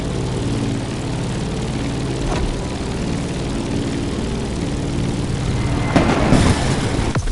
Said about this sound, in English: Let's start our descent and get ready for the landing.